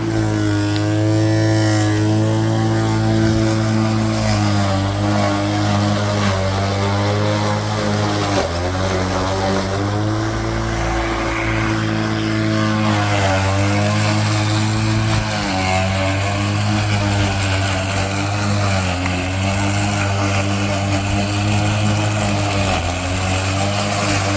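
A loud, steady motorized drone runs throughout, its pitch wavering slightly as an Ego 49cm electric lawn mower pushes through tall, thick, wet grass, with no talking.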